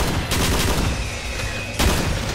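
Rapid bursts of gunfire from the Doom game running in GZDoom with high-resolution texture mods, two loud blasts roughly a second and a half apart, each trailing off into a noisy echo.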